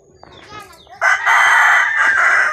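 Chickens cluck and squawk close by at a chicken coop, building into a loud, sustained crowing call that fills the second half.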